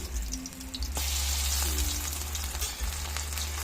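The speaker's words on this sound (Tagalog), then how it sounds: "nagprito ko na guys yung ginawa kong ukoy" Small shrimp okoy fritters with pechay sizzle in hot oil, a loud steady crackling fry close up with a sharp spatter as a fritter is flipped, no talking.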